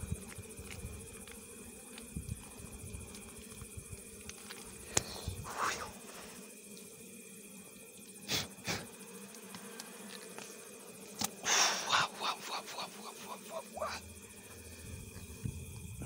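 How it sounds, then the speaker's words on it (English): Honey bees buzzing around a hive at night, a low continuous drone with occasional louder passes of individual bees close by, alongside faint background hum. "The bees are very protective of their honey."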